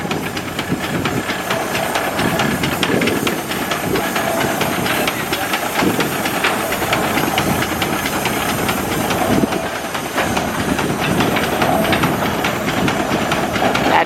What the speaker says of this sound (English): I wanted to see the steam tractor.